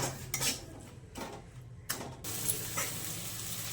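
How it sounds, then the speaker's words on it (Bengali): Washed Gobindobhog rice being fried with spices in a pan, heard as bursts of scraping and clattering as a utensil stirs against the pan, with short pauses between strokes. "এবার চালটাকে মশলার সাথে ভালো করে ভেজে নেব।"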